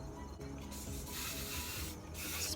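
Hairspray hisses from an aerosol can onto short hair styled with clip-in extensions, a steady close, breathy spray lasting a couple of seconds with a brief dip in the middle.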